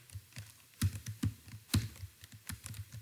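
Typing on a computer keyboard, a quick irregular run of close, soft key clicks and taps with a few heavier strokes, heard alone without talk.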